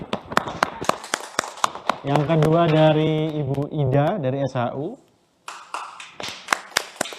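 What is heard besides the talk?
audience applause for prize winners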